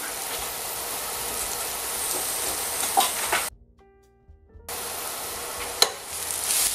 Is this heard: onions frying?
yes